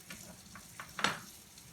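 Mushrooms sautéing in a pan for an omelette give a soft, low sizzle with faint stirring scrapes and one brief louder clatter near the middle, close by and quiet.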